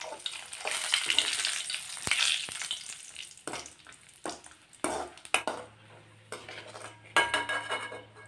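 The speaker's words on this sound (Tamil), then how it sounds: "இப்போ அதே எண்ணெயிலேயே வரமிளகாய் வறுத்து எடுத்துக்கலாம்." Dried red chillies frying in oil in a pan while making a pirandai chutney, with clattering utensil scrapes and knocks against the pan over an uneven sizzle, close and without speech.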